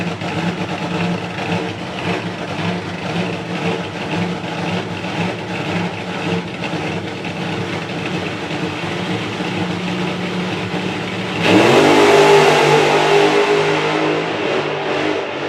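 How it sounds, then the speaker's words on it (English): Fuel Funny Car drag racing engines idle with a loud, rough, pulsing drone, then erupt abruptly into a much louder roaring acceleration near the end at a drag strip. "Alki Alton against Fuel Funny Car"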